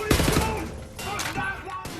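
Weapon fire from the LKW laser gun in Wolfenstein: The New Order, a loud burst that fills the moment and breaks into a few sharp repeated blasts with buzzing tails. No one speaks.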